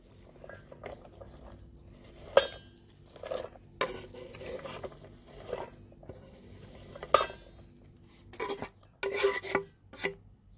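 Shredded carrots for a vegan Asian carrot salad being tossed and stirred in a large mixing bowl, with soft rasping scrapes and occasional sharper clinks of utensils against the bowl, quiet and intermittent.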